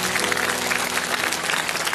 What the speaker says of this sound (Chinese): 掌声再次送给吕老师